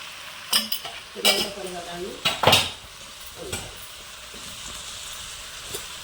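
A spoon scraping and clanking in a pot while tomato and broad bean curry is stirred, several close metallic strokes in the first half, then a low simmering hiss with one faint knock near the end.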